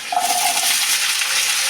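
Kochur loti, taro stolons, hiss and sizzle in hot mustard oil in a pan, a close, bright frying crackle with a faint scrape near the start.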